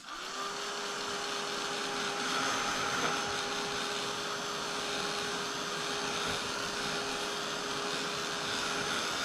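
A hair dryer or heat tool blows steadily and evenly on a watercolor painting, a constant close whir with a faint high whine that holds unchanged for about nine seconds, with no talking.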